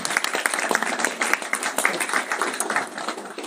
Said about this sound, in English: Everyone give Megan a round of applause